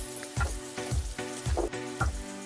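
About ten garlic cloves sautéing in hot oil for a fish curry, a soft sizzle under a series of regular low knocks as the pan is stirred.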